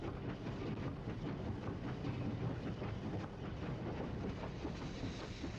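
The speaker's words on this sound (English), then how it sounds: "The rhythmic clatter of wheels on the tracks seemed to echo in an oddly discordant manner" Train ride to Kingsport, wheels rattling steadily on the tracks with a continuous dense rumble and faint rhythmic clatter, heard from inside the carriage.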